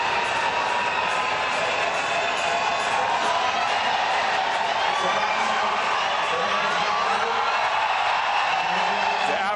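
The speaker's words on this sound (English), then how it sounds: "The atmosphere on the crowd gets louder and louder." A large stadium crowd at the Kip Keino Classic athletics meet at Nyayo Stadium roars in a loud, continuous wash of cheering, with a voice talking over it.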